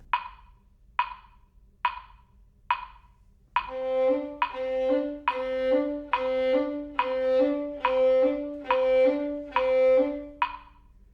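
Four single metronome-like clicks, then a bowed string ensemble from the slow second movement of Brahms's Clarinet Quintet Op.115 plays steady paired quavers, two even notes to each beat, with a low sustained line beneath, clear and moderately loud.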